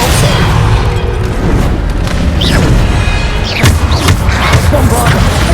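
A Bombarda spell explosion in the video game Hogwarts Legacy: loud, booming blasts and thuds fill a dense battle mix, with voices heard over the action.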